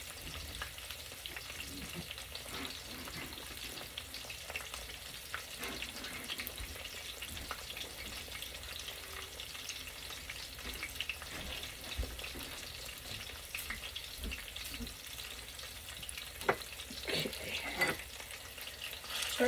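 Chicken sizzles and crackles steadily in hot oil, a continuous bubbling hiss with occasional pops, fairly quiet and without speech.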